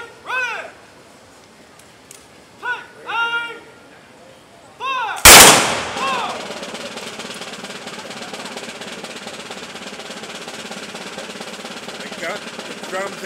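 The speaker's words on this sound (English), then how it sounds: "After this first shot that we will command by me, we are going to have two shots commanded by Kirk" A musket volley fired by Alamo reenactors cracks out as one loud, close blast, with a long rumbling decay afterward. Several shorter sounds come before it, followed by steady crowd and outdoor background noise.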